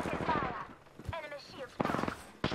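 Weapon fire in the video game Apex Legends crackles in a few short, sharp bursts, fairly quiet and mixed with in-game voice lines.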